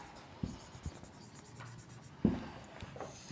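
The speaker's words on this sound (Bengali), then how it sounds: "তাহলে আমরা কি লিখব?" Pen or pencil writing on paper during a class lesson, with a few scratchy strokes and taps close by at moderate level, no voices.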